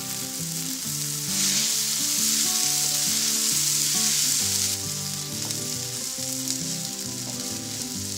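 Mint and coriander chutney ingredients sauté in a hot pan with a loud, continuous close-up sizzle and hiss, steady throughout with no talking.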